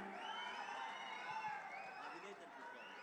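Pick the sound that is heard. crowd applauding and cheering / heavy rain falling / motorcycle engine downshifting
crowd applauding and cheering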